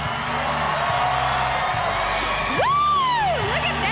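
A crowd cheers a rider making a high jump onto a platform on a bicycle, with loud whoops and shouts that swell near the end. One voice rises in a long whooping yell over the others.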